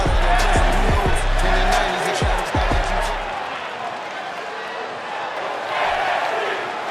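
In the WWE 2K22 wrestling video game, an arena crowd for NXT 2.0 in Orlando, Florida roars steadily, with a few deep booming thuds at the start and an announcer talking over the noise.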